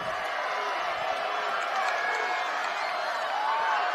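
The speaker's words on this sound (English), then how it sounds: "The crowd below us is yelling, run the ball." Stadium crowd at a high school 6A football quarterfinal, Pleasant Grove vs. Skyridge, yelling from the stands below as a broad, steady roar with scattered shouts that holds at an even level throughout.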